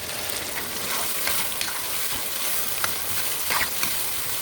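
Onion, garlic and ginger paste fries in a pan for a mixed vegetable sabzi, giving a steady close sizzle with faint crackles and occasional stirring scrapes, and no talking.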